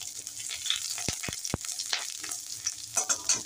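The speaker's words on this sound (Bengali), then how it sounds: "আদা ও রসুন কুচোগুলোকে একটু নেড়ে নিচ্ছি।" Chopped ginger and garlic frying in olive oil, stirred with a spoon: a bright, continuous sizzle with a few sharp scrapes and clicks against the pan, close and alone.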